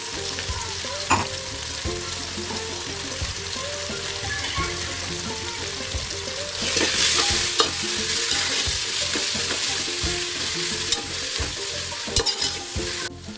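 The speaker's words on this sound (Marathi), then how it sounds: "कांदा लाल होत आलाय, तर आपण वाटण घालूया. हिरवं मिरची, पुदिना, कोथिंबीर, अद्रक, लसूण" A paste of green chili, mint, coriander, ginger and garlic sizzles in a pan with browned onions for home-style mutton biryani, with steady frying hiss and intermittent scraping stirs throughout, growing louder midway.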